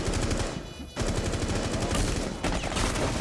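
Automatic rifle spray from a first-person shooter, Rainbow Six Siege, with rapid sustained bursts broken by a short pause, then continuous close fire to the end.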